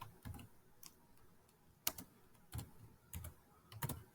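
Fingers tap out a short word on a computer keyboard while coding a drone game, a sparse run of quiet, close keystrokes in small clusters with brief pauses between them.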